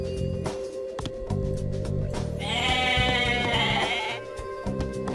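A sheep bleats in the strategy game Age of Mythology Extended Edition: one drawn-out, wavering bleat set over busy game music and unit sounds.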